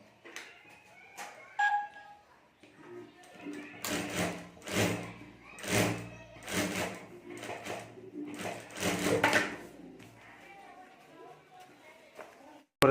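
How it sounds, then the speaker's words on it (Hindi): A sewing machine stitching a clutch bag at home, running in several short whirring bursts with pauses between them, fairly faint, while a voice speaks over it. "तो यहाँ मैं सिलाई कर देता हूँ"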